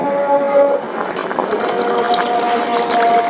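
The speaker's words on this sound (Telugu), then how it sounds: "ఇప్పుడైతే చింతపండు రసం యాడ్ చేస్తాం." Tamarind juice pours into a pot of simmering dal with bottle gourd and drumstick pieces, making a loud, close, steady liquid gush for a few seconds without speech.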